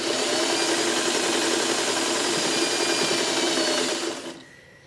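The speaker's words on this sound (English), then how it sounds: "We'll sew this here on purpose, not matching intersections." A sewing machine runs steadily, stitching quilt fabric pieces at regular speed, a close continuous whir that stops abruptly near the end.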